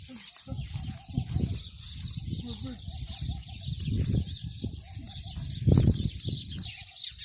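Birds chirp steadily in a backyard in Abu Dhabi, a continuous high twittering that runs throughout while people talk and call out loudly nearby.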